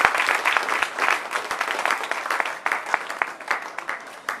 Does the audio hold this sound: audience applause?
yes